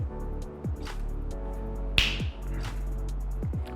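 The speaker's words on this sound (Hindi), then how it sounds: "अगर आप चाहते हैं तो चुटकी बजाइए, अपने हाथों से चुटकी बजाइए" Crisp finger snaps ring out several times at irregular intervals during a guided meditation session, each sharp and close over a soft, sustained tonal background.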